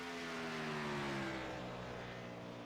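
Racing cars in a racing video game, a loud steady engine drone with strong harmonic whine and slowly shifting pitch, sustained throughout without talk.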